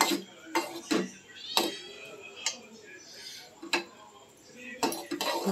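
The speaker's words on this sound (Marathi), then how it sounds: "ते चांगले ढवळून घ्यायचे." Cashew mixture stirred in a pan, with a spoon knocking and scraping against metal in several sharp, irregular clinks over a quiet kitchen background.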